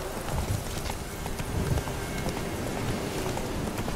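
Clip-clopping hooves of the horse Roach in The Witcher 3: Wild Hunt, a steady rapid galloping patter heard close and loud with no pauses.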